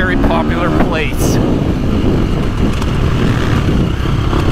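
A 2025 KTM 350 XC-F dirt bike rides a soft motocross track at Briarcliff MX. The engine drones steadily and loudly with wind buffeting, and a voice speaks briefly at the start.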